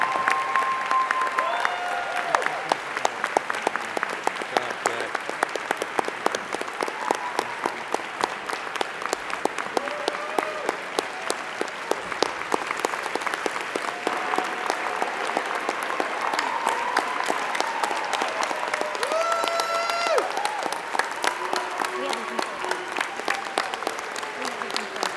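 Sustained applause from a large audience at a 2023 Case Western Reserve University School of Law commencement ceremony, a steady, even wash of clapping that fills the hall at moderate volume throughout.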